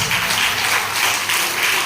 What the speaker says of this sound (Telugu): చప్పట్లతో గట్టిగా.